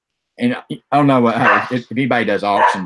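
A dog barks and yelps close by in an indoor room, several short loud barks mixed in with someone talking.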